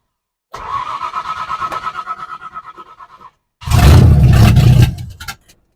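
A 1970 Ford Falcon engine, just after a carburetor cleaning with the choke disconnected, cranks in a rhythmic whirring burst, pauses, then catches with a loud, rough roar for about a second before sputtering out.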